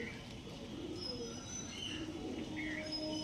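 Pigeons kept by a breeder coo softly in low, rolling calls, with thin chirps over a steady background hum; several birds are fairly close but quiet.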